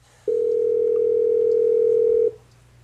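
A steady dial tone from an Aastra 6757 VoIP desk phone sounds for about two seconds, clear and constant, then cuts off abruptly, leaving quiet room hiss.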